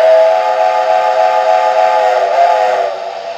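A model train steam whistle blows one long, loud, steady hissing tone close by, holding for about three seconds before tapering off.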